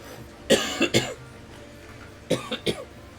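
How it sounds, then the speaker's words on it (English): Several short coughs from a player, two clustered bursts about two seconds apart, close and fairly loud with no talk around them. "Sorry for the cough."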